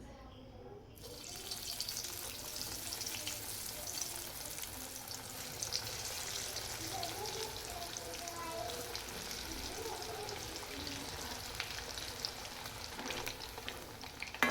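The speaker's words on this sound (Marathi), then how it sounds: "तेल गरम झालेलं आहे आता मी कोथंबीर वड्या तळून घेते" Coriander fritters (kothimbir vadi) fry in hot oil with a steady, fairly faint bubbling sizzle that holds throughout, with no speech.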